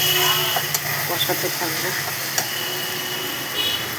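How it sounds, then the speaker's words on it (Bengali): Mutton stirred in a pan of hot oil, a steady sizzle and hiss with scraping stirring strokes, close and fairly loud, with no talking over it. "আরেকটু দিয়ে দিলাম গরম করা তেল। এবার কষাতে থাকবো।"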